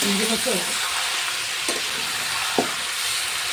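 Fatty chicken pieces frying in plenty of oil at an outdoor picnic cookout, a steady dense sizzle close by, broken by a couple of brief stirring knocks.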